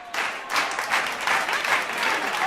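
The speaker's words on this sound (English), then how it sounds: "Oh, and the crowd likes that bunker shot." A golf gallery at the Fry'Der Cup in Palm Springs breaks into steady applause after a bunker shot, sustained clapping with a few cheers lasting throughout, fairly close and loud.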